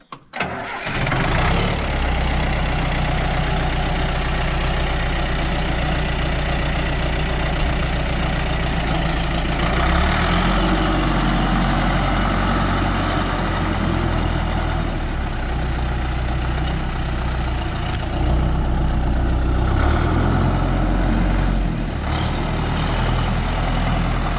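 A diesel engine on an Ursus 934 tractor cranks and catches, then settles into a loud, steady idle that rumbles on close by.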